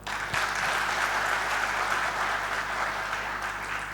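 An audience applauds the leaders at a company's first anniversary event in Patna, dense steady clapping from many hands over a low electrical hum, slightly easing toward the end.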